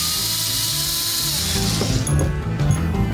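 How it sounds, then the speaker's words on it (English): Power tool whirring steadily as it backs out the 10 mm bolts on the C-clamp of a new K04 turbocharger, with short ratchet-like clicks near the end, close and fairly loud. "the C-clamp, and we're going to take this off again, 10 millimeter all the way around."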